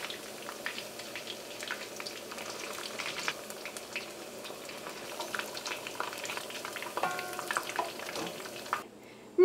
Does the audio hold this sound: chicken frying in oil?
yes